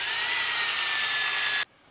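A 1.5 inch hole saw drills from the top down through a car hood while fitting flush mount quick release hood pins, giving a loud, steady high-pitched grinding whine that cuts off abruptly near the end.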